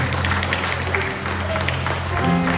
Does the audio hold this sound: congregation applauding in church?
yes